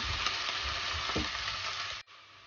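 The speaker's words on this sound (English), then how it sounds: "Saute the onions until it turns into golden brown." Onions and whole spices sautéing in a pan for aloo matar pulao give a steady, close sizzle and crackle with faint stirring scrapes, then cut off abruptly near the end.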